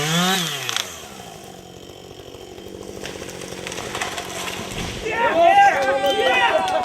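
Chainsaws worked by forest fellers during a tree-felling contest in a Carpathian forestry, a steady buzzing drone that rises and revs louder near the end, with a narrator talking over it.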